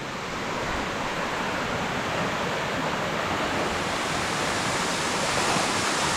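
Water pouring down Lanka Ella, the fall beside Babarakanda in Sri Lanka, heard as a dense, unbroken hissing roar that stays even and near throughout, with no one talking.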